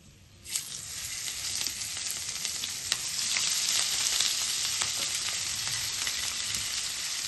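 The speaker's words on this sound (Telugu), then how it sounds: "ఆయిల్లో మనం ఇంకో స్పూన్ ఆయిల్ వేసుకుని మిగతా ముక్కలు కూడా వేపుకుందాము" Fish pieces frying in a little oil in a pan, a steady loud sizzle that starts abruptly and continues throughout with occasional crackles.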